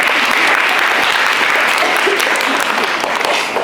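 A loud, dense burst of applause from parents and guests at a children's school celebration at St. Nicholas School in Glasgow, a continuous wash of many hands with no talking.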